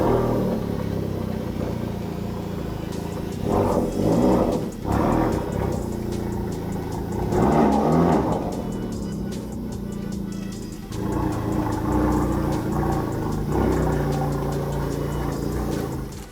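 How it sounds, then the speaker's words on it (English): A Honda FL5 Civic Type R fitted with an upgraded exhaust runs on a dyno, its loud, steady engine note rising in several rev surges before settling back, with no voices. "we'll get the rear valance completed and then the car onto the dyno and see how it sounds"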